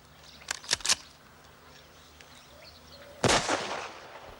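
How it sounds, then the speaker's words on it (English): A warning shot fired over people's heads, heard as a quick cluster of sharp cracks followed by silence and then one louder blast with a rumbling tail, fairly close, with no talking. "Fraser, fire a shot over their heads."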